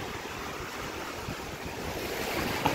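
Surf at St Augustine Beach, a steady wash of breaking waves with wind rumbling over the microphone, continuous and fairly soft with no voices.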